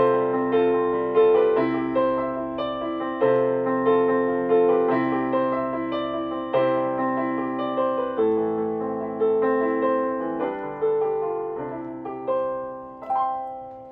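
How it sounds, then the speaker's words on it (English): The first piano voice of a Yamaha NP32 Piaggero 76-key keyboard plays a clear, close melody with chords, notes struck and decaying in a flowing rhythm, with no talking over it. "you turn the keyboard on and you get the first of the piano sounds"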